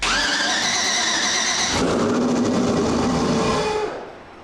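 An LS V8 engine swapped into a turbocharged AWD Audi cranks with a steady whine on its first start, then fires and roars loudly, running for a couple of seconds before dropping off. No voices.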